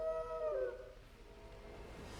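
Torgal, a dog in Final Fantasy XVI, lets out a single falling howl that starts clear and loud and fades into a low tail within about a second, heard alone without talk.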